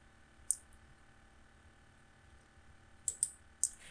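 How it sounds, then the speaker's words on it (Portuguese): A computer mouse clicks faintly in a quiet room, one click followed later by a quick cluster of three sharp clicks. "Vou clicar no guia formulário"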